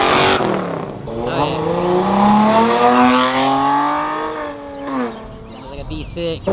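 A car engine revs at a Caffeine and Octane car meet. A loud, rising and falling engine note surges close by, with voices talking over it.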